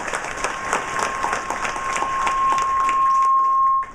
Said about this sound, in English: Let's give him a round of applause for this question, okay?